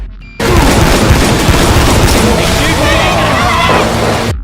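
Gunfire and explosions from survivors fighting a Tank in the Left 4 Dead 2 video game, a loud continuous barrage of shots and booms that cuts in abruptly and fills the whole stretch.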